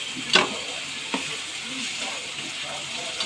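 Green chilies frying and being stirred in a pan, a steady soft sizzle with a few sharper scrapes and clicks from stirring, close by and moderately loud, with no talking over it.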